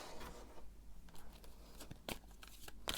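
Tarot cards being shuffled in a quiet indoor setting, giving a few soft papery riffles and sharper flicks, close and moderately quiet with no talking.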